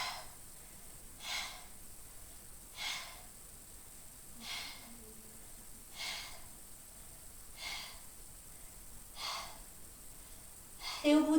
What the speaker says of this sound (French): Et on installe la petite respiration.